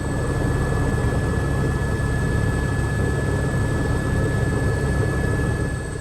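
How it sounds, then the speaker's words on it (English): An H125 helicopter in a slight descent from a hover, with a continuous loud engine and turbine roar and a dense low rotor rattle steady throughout, close and with no voices. "As soon as the H125 goes from hovering to a slight descent, you can very well hear a rattling sound"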